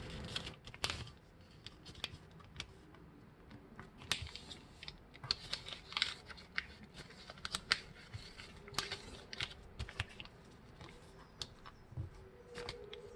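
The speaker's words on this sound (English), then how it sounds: "When I finish one side of the paper, I turn the paper over and I repeat the same fold." Sheets of paper being folded and creased by hand while making a paper airplane, with quiet irregular crinkles, rustles and sharp creasing snaps close to the microphone and no talking.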